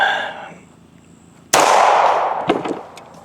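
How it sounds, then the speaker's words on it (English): A single sharp, loud gunshot from a Remington 1911 pistol fired at homemade bulletproof glass, followed by a long echoing decay and a brief metallic clatter. "Shooting it out of a Remington 1911."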